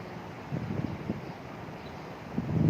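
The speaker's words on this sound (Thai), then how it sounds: "วันนี้ลมแรงนะน" Strong wind buffets a microphone outdoors, giving a continuous rough rumble with gusts that swell briefly and build louder toward the end, and no speech.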